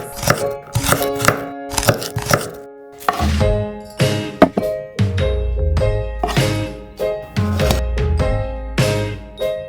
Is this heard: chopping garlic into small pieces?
yes